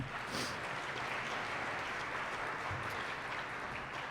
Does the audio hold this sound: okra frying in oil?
no